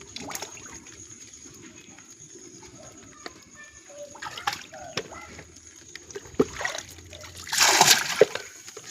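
Pangas fish splash at feed thrown into a pond, a burst of splashing near the end over a quiet outdoor background with faint bird calls.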